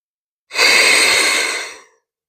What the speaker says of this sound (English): Taking a few steady breaths.